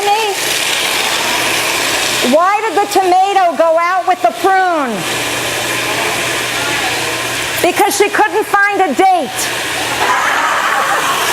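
A blender purees roasted red peppers with their jar liquid, a loud broadband whir running throughout while a woman tells jokes and laughs over it.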